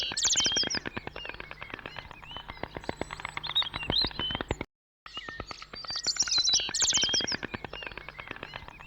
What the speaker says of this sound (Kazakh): Ләйлек.